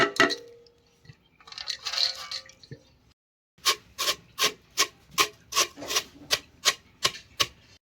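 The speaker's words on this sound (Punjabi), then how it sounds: "ਆ ਫੁੱਲ ਮਖਾਣੇ ਕੁੱਟਣ ਲੱਗੇ ਕੁੰਡੇ ਘੋਟਨੇ ਵਿੱਚ ਇਹ ਵੀ ਬਰੀਕ ਬਰੀਕ ਕਰ ਲੈਣੇ" Puffed fox nuts (makhana) are pounded in a mortar with a pestle for Punjabi panjiri, first some scraping and rustling, then about a dozen sharp, close, evenly spaced thuds in a steady rhythm.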